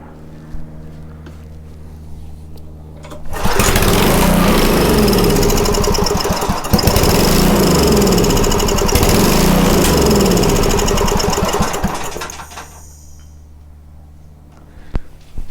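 A Homelite 2500 watt portable generator's engine catches and runs loudly for several seconds with a rough, steady drone, then cuts out and winds down, with quieter mechanical noise before and after.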